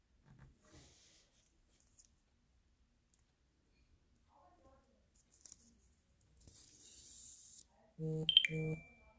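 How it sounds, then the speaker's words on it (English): Phone notification going off near a sweetgrass and bead edging craft session, a short bright electronic beep sequence with a few quick tones at the end, preceded by faint clicks and a soft rustle. "I'm going to turn the do not disturb off on my phone, so you won't be hearing these random notifications"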